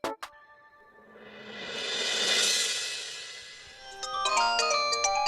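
A phone ringtone rings out loud and close, a rising electronic swell that gives way to a bright repeating melodic tone pattern, with no talking.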